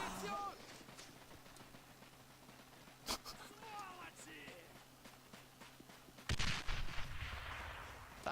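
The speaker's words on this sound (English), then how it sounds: "that was a very close explosion for him to survive" Battlefield blasts from Men of War Assault Squad 2 with the Robz realism mod: a sharp bang early on, then a loud, very close explosion with a rumbling aftermath, over a steady bed of distant gunfire.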